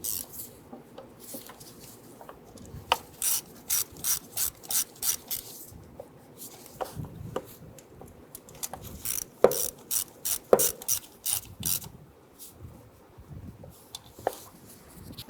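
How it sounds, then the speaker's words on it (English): A ratchet with a 7mm socket and extension snugs down bolts on a 1994-2004 Ford Mustang 3.8 intake manifold, giving repeated quick clicking runs of the pawl with short pauses and some scraping handling noise. "Use your 7mm socket and extension to go ahead and snug these down."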